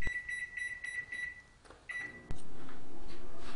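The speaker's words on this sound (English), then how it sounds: "So Adam places a cup of water in the microwave to get a base reading of how long it takes to" A microwave oven heats a cup of water, humming loudly and steadily with a few short electronic beeps early on and a brief pause before the hum resumes, louder and continuous.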